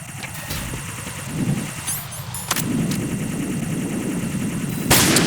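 Sniper fire in the video game Metal Gear Solid 2, sharp gunshot cracks and bursts over a constant mechanical game background hum, with a louder report near the end.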